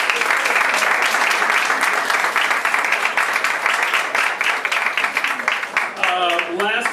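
A panel audience at a film festival session gives a huge round of applause, loud continuous clapping that fills the space, with a voice starting to speak over it as it fades near the end.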